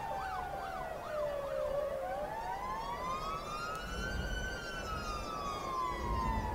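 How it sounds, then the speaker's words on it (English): Police sirens wail through city traffic in the game Cities Skylines, a sweeping up-and-down electronic tone over a low, constant hum of cars, alone with no talk. "you can hear the sirens trying to..."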